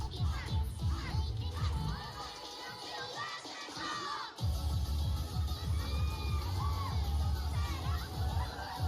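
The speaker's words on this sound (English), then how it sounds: "I hear the crowd, dude. They're into it." A large crowd at a concert cheers and shouts in a continuous loud roar, briefly dipping before surging back.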